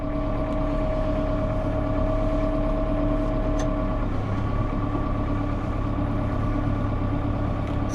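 A 2014 Massey Ferguson 5612 tractor engine runs at a steady loud diesel drone, with a little throttle given while it idles close by, holding a constant low hum with no talk.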